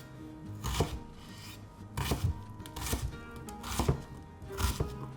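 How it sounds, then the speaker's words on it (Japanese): An onion is diced with a knife on a cutting board, four or five clusters of crisp close chops spaced about a second apart, with quiet shuffling between strokes. "玉ねぎも同様に、よいしょ、同じぐらいのサイズ感で切っていきます。"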